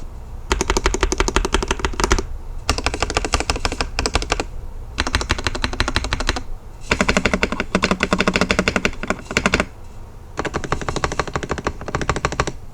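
Loud, rapid clacking from an Attack Shark X85 Pro mechanical keyboard, showing off its stabilizers, typed in dense bursts separated by short pauses, close up with no talking.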